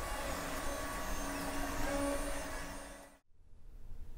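A 3D printer printing parts for a droid body frame whirs steadily with faint stepper-motor tones, close and continuous, before cutting off abruptly to near silence with only room hum.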